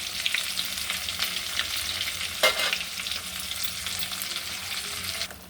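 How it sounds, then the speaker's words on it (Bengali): Rohu fish roe fries in an oil-filled pan, hissing in a steady close sizzle with stirring scrapes and one louder clatter midway. "আমার ডিম ভাজাটা হয়ে গেছে।"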